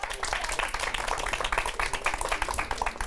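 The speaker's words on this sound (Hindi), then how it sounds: "तालियों के साथ हौसला बढ़ाइए उसका।" Audience applause at a filmed Hindi show segment about leech therapy, a dense, steady patter of many hands clapping close by for the full few seconds, with no clear speech on top.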